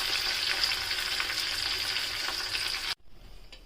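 Mustard seeds, cumin, garlic and four dried chillies sizzle and crackle steadily in hot oil for a tempering, a dense continuous fry that cuts off abruptly near the end, leaving faint residual sizzle.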